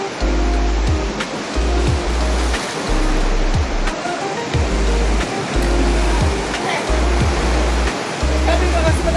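Ocean waves wash continuously onto a beach shore in Liloy, Zamboanga del Norte, a loud, close, rushing surf with a low rumbling undertone throughout.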